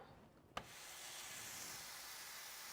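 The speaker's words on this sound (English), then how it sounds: "you hear that sizzle?" A brief knock, then a steady, faint hiss of burger patties sizzling in a hot pan that holds evenly to the end.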